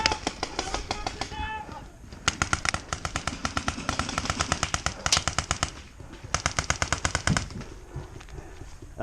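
A Nitehawk EMF 100 paintball marker fires in rapid, evenly spaced volleys of sharp pops, close and loud, in several long strings with brief gaps, while voices talk underneath.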